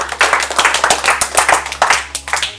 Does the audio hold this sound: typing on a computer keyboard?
no